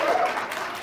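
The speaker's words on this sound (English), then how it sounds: "One more round of applause." Brief burst of audience applause after a performance at an on-stage business conversation event, a dense patter of many hands from a crowd at moderate distance.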